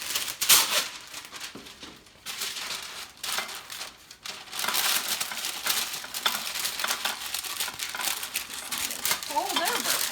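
Parchment paper crinkles and rustles in bursts while lining a brownie pan, close and fairly loud, with a voice talking alongside.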